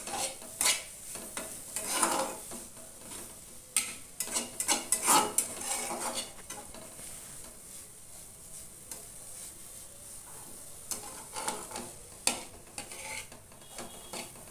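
Shushni greens frying in a pan and stirred over and over, with repeated spatula scrapes and clinks against the metal over a soft sizzle, close and steady.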